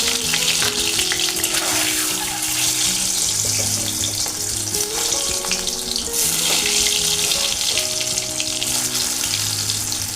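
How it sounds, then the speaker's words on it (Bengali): Eggs frying in a pan in a home kitchen, a steady bright sizzle running continuously, close and fairly loud with some clinking and stirring beneath, no voices. "ডিমগুলো ভেজে নিই।"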